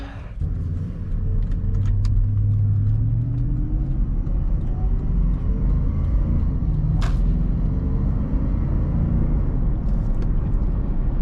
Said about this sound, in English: we insert the key here and boom, starts right up.